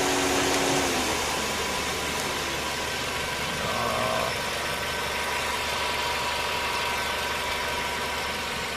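A vehicle engine with a faulty charging system idles steadily, a loud, continuous low rumble with an even mechanical hum that holds without a break from start to finish.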